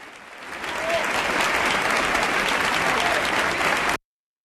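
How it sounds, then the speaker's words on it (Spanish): A dense ovation rises from a concert audience at a 1977 performance, heard through a played recording as a steady, loud wash of applause that holds for about four seconds and then cuts off abruptly. "Vaya ovación"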